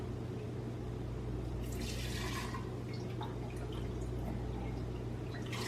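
Homemade limoncello being ladled by hand, a soft liquid pouring and dripping with a brief louder splash partway through, heard close over a steady low background hum.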